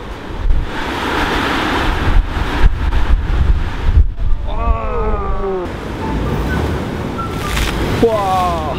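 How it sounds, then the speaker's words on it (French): Rough sea waves building as a typhoon approaches an island, a steady loud rush of surf and gusting wind buffeting the microphone, with a voice speaking over it. "Ça commence à faire de belles vagues."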